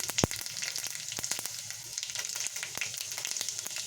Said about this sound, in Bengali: পাঁচফোড়নটা ভালো করে ভেজে নেব